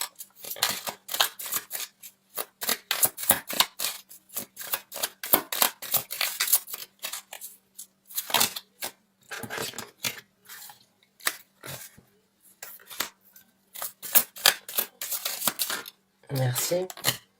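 Tarot cards being shuffled and drawn from the deck, a run of quick crisp slaps and flicks in uneven bursts, close and fairly loud, with brief pauses between handfuls.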